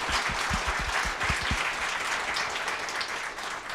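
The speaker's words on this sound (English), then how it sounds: "so I want to give him a round of applause" Sustained applause from an audience at a state legislative committee session in Oregon, a dense steady clatter of many hands, fairly close and even in loudness throughout with no talk over it.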